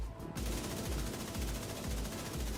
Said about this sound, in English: Still landing perfect shots with their blind fire.